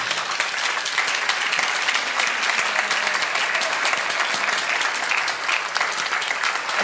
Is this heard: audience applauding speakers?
yes